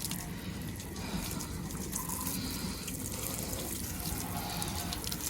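Steady running water spraying and splashing onto a motorcycle being washed for the whole stretch, a constant broadband wash with no voices.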